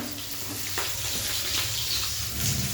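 Large pieces of fish frying in a pan for a homestyle fish curry, a steady close sizzle with bubbling oil and faint stirring, no talk.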